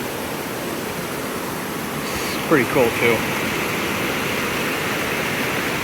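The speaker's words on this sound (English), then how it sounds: "The big cliff in the back, and then a little waterfall coming off that." A small waterfall pours off a big cliff at Cascade River in Superior National Forest, giving a steady, broad rushing wash throughout, with a person briefly speaking over the flow.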